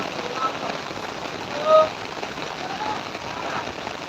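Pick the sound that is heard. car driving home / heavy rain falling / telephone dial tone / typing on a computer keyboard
heavy rain falling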